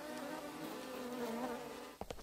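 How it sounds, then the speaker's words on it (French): Cartoon flies buzz steadily around a character, a close, continuous insect drone that ends in a few short thumps. "T'aurais pas dû lâcher les mouches sur Macbeth"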